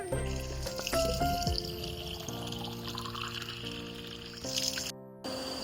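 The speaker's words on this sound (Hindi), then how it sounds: "मैं अभी आई हूँ पानी भरने के लिए।" Water pours steadily from a tap or spring while a vessel is filled for drinking beside rice fields in the hills of Pithoragarh, Uttarakhand, a continuous close trickle with some clatter and no talk.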